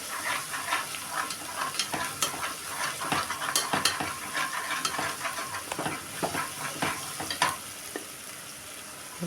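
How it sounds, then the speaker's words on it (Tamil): Onions sauté in oil for a mushroom biryani, with a spatula scraping and tapping in quick, irregular strokes over a constant close sizzle, with no voices. "பச்சை வாசனை போகிற அளவுக்கு வதக்கி விடுங்க எண்ணெயில்"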